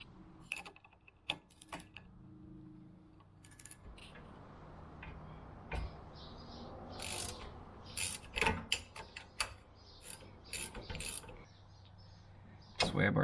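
A Hotchkis sway bar is unbolted beneath a Dodge Challenger R/T, with a run of metallic clicks, ratcheting and tool clanks that turn busier and louder partway through, close to the mic, with a little talk at times.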